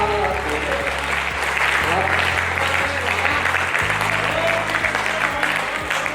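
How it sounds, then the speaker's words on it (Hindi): A live audience at a Hindi poetry recital claps steadily and warmly for several seconds, a dense, even wash of applause filling the hall without a break. "देखिए आपकी तालियां बजती हैं अच्छी तो हमारा मन कविता पढ़ने में लगता है।"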